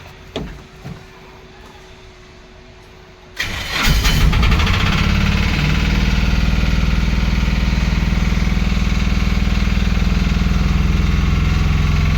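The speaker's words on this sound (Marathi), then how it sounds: "आता आपण जाऊन गाडी स्टार्ट करणार आहोत" A Tata Iris diesel engine cranks and catches after a quiet moment, then settles into a steady, loud, rumbling idle.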